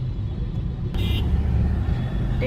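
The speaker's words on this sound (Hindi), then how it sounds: "ट्रैफिक बहुत हो रहा है।" Steady road traffic with cars passing close by on a busy street, a continuous low engine rumble and tyre noise throughout, with a brief hiss of a passing vehicle midway.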